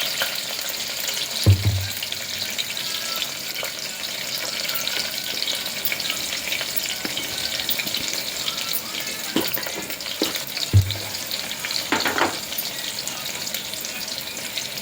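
Onions and green chillies frying in a pan with mustard seeds and cumin, giving a steady, close sizzle throughout, broken by a few low thumps and scrapes, with no voices.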